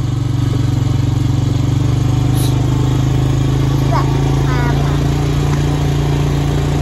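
A four-wheeler engine runs at a steady, loud idle close by, with a constant low rumble and faint sounds around it.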